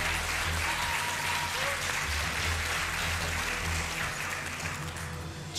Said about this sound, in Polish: Teraz wielkie brawa, proszę państwa.